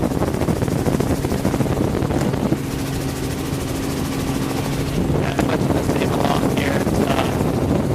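Strong wind over a marsh and tidal flats pushing a small boat onshore, loud and continuous, buffeting the microphone with rough rumbling gusts and a faint steady engine-like drone, no talking.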